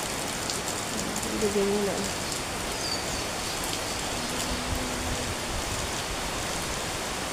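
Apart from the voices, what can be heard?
rain falling on a dark morning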